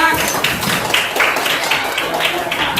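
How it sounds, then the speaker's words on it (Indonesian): A classroom of pupils claps their hands together in a dense, steady patter of overlapping claps that runs throughout at moderate volume, with voices mixed in. "tepuk tangan dulu untuk kita semua"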